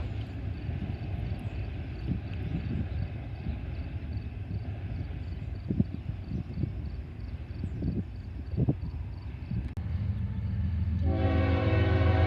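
Freight train rolling west through Deshler under the signals, with a steady rumble and rail noise throughout and a loud, sustained horn blast joining in over the final seconds.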